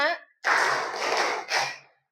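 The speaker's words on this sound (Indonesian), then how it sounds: "Tepuk tangan." Classroom students clapping hands together in unison during a science lesson on classifying living things: a voice speaks briefly, then a loud burst of group clapping follows, with a shorter second burst that trails off.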